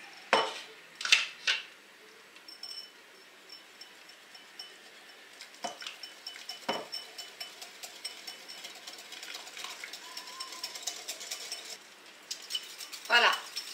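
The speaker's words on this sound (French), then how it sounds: "Maintenant, je vais mélanger le lait à les œufs." Milk being whisked quickly into eggs in a bowl on low heat for a sweet cinnamon vermicelli dessert, giving light clinks and scraping against the bowl, with a few sharper clinks of utensil on dish and quiet voices.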